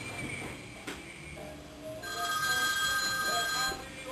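A mobile phone rings indoors, an electronic ringtone swelling in and sounding steadily for a couple of seconds, fairly close and clear.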